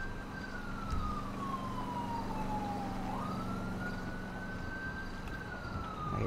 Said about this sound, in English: Sirens, man.